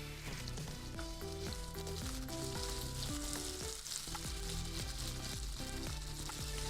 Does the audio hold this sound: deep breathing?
no